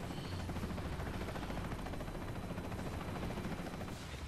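Helicopter rotor and engine roar in the shooter game Bulletstorm, a loud, steady, dense wash of noise filling the whole moment without pause, with faint gunfire-like crackle mixed in.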